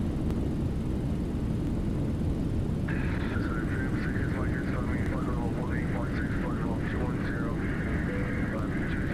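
Simulated Boeing 737-800 rolling out after landing with reverse thrust in X-Plane 12, a steady loud engine roar with rising whining tones, under a man calling out procedures.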